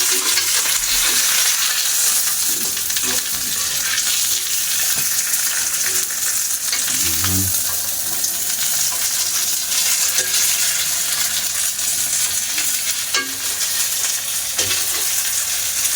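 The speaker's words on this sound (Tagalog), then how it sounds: "Igisa po natin yung, susunod po natin yung isda." Fish sautés in a pan with a loud, steady sizzle and occasional knocks and scrapes from a utensil, heard up close without any talking.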